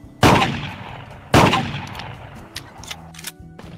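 Two loud shotgun blasts about a second apart in a VR American trap doubles game, each sharp report decaying with a ringing tail, followed by faint clicks.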